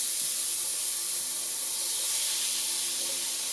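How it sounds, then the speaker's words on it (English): Sliced onions hit a hot pan for an Italian sausage and veggie dish, giving a steady, loud, broadband hiss of sizzling that holds evenly throughout with no talk over it. "Then add the sliced onions"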